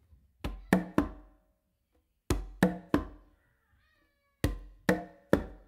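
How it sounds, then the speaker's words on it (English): Conga strokes on a tumba, bass, finger and close slap with the dominant hand, played alone and close: three quick hits in a group, repeated three times with pauses between. "that's where we're gonna be putting that close slap with your dominant hand"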